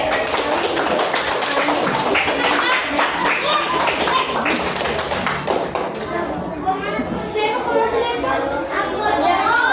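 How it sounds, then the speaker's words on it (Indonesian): Classroom of fourth-grade primary school children clapping together, busy and loud, with voices and chatter mixed in throughout. "Tepuk tangan untuk kita semua."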